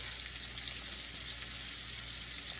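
Garlic sizzles in a hot pan before salmon is added, giving a steady, dense crackle of frying oil that is fairly quiet and continuous, with no voices.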